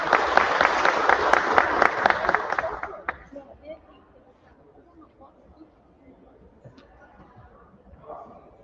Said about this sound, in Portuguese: Salve, palmas para vocês aí.